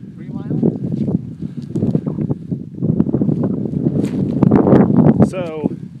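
Strong wind gusting across open sagebrush desert, buffeting the microphone with a rough, rumbling roar that swells toward the end, with voices talking over it.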